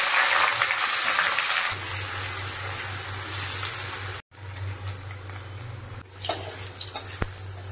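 Cut paneer pieces frying in a pan for chilli paneer and fried rice, a steady broadband sizzle with stirring, a brief cut near the middle, then quieter crackling with a few sharp clinks toward the end.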